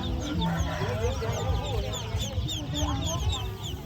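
A dense chorus of chicks and ducklings peeping and chickens clucking fills a market in Isan, northeast Thailand, continuously, with a bustling market murmur underneath.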